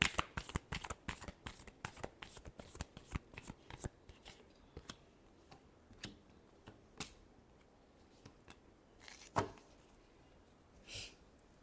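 Tarot cards are shuffled close by: a quick, dense flurry of crisp card slaps for a few seconds, then sparser, softer snaps and shuffles, all fairly quiet with no voices.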